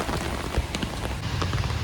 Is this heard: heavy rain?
yes